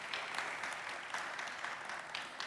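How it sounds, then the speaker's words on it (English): Steady audience applause welcoming panel guests at a live-streamed forum, dense clapping throughout at moderate distance, with no voices over it. "I think a round of applause would be appropriate right now."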